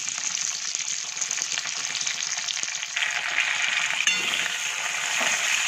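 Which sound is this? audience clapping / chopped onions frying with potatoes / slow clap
chopped onions frying with potatoes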